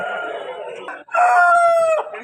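A rooster at a Vijayawada rooster market crows loudly and close by, one long drawn-out call following a shorter clucking sound.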